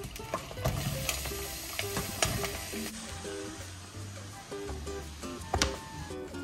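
Onion is added to a pan already frying jalapenos, giving a steady sizzle with frequent clicks and scrapes of stirring close by.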